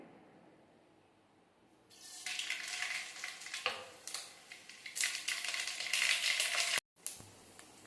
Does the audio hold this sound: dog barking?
no